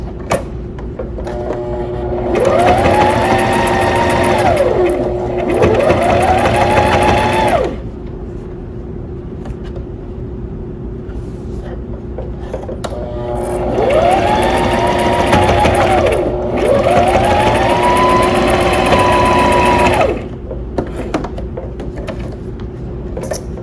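A sewing machine stitches a four-ply pleated fabric mask in two long runs of several seconds each, its motor rising to a steady whirring whine and then winding down, over a constant low hum between the runs.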